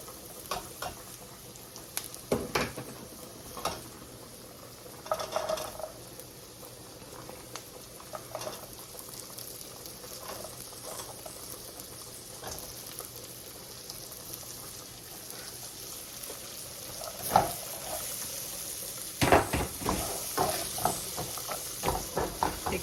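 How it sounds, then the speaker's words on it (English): Onions and carrot sautéing in a pan for a shrimp spaghetti stir-fry give a faint, low crackle with scattered sharper pops and clicks over a quiet background. "And put my onions in there to saute it."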